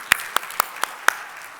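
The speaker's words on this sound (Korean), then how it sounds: "박수 한번." A few separate, evenly spaced hand claps ring out in a church hall during a sermon, about five sharp claps over a second and a half, close and isolated with no talking.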